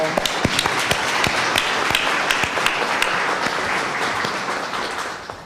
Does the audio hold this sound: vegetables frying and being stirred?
no